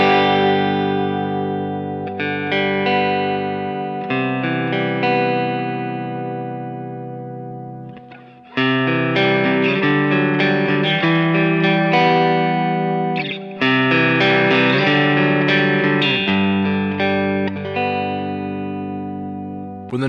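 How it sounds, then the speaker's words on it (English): Electric guitar played through a 1981 DRV drive pedal with the gain knob turned all the way down, giving mostly clean preamp tone with only a slight edge; strummed chords and riffs ring out loud and sustained, with a short pause midway. "When the knob is turned all the way down, there will be very little gain present."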